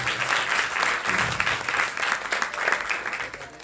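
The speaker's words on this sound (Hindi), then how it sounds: "पुरस्कार देने वाले के लिए तालियां बजानी चाहिए" A crowd at an Arya Samaj annual celebration in Noida claps steadily in a moderate wash of applause that lasts the whole stretch without pausing.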